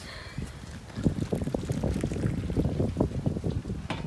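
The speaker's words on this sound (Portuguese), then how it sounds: "O vento tá forte aqui, pessoal. Forte, forte, forte." Strong wind buffeting the microphone at a riverside campsite on the Jacuí River, a continuous low rumble with gusty bursts and faint lapping in the background.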